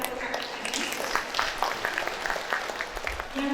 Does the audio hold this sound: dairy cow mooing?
no